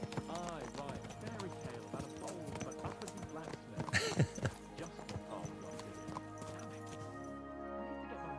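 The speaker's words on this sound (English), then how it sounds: "Let's really spur these horses on, eh?" Horses gallop in the medieval game Kingdom Come: Deliverance 2, with a continuous rapid clip-clop of hooves and a brief whinny. It plays under steady music and voices.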